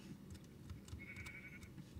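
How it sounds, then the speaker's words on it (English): A baby sheep in Minecraft gives a short, thin bleat, faint and somewhat distant, over low background noise. "Baby sheep."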